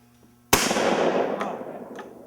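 A single loud shotgun blast at a clay target, with a sharp onset and a long, slowly fading echo rolling across open ground, followed by faint pops in the distance.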